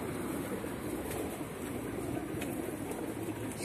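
Pigeons coo among grass outdoors, soft low calls set in steady, fairly loud background noise, with no talking.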